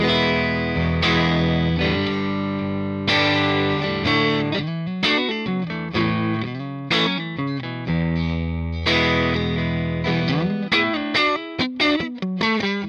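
Clean electric guitar on the neck pickup through a Fender Blues Jr amp with a WGS Alnico speaker, playing a lively run of chords and single notes with varied rhythm, up close and loud, with no voices.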